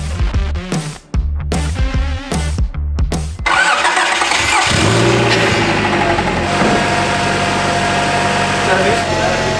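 A car engine cranks with several starter whirs, then catches and settles into a loud, steady idle after transmission fluid is added during a full build transformation; no talk over it.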